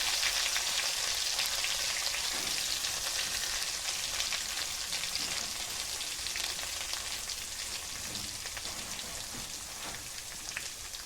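Garlic fries in a pan for a green chili palya, giving a steady, crackling sizzle that keeps going without pause and fades slightly over time.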